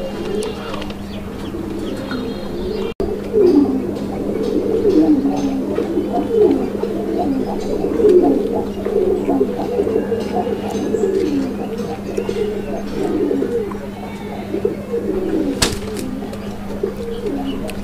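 A pair of black Madrasi Gola pigeons, a breeding pair, coo in repeated rolling, throaty calls close by, with someone talking at times over them.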